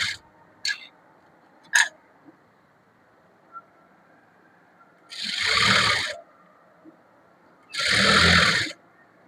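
A sewing machine stitches a double-folded hem on a churidar top in two short, loud whirring runs of about a second each, preceded by a few light clicks of fabric handling.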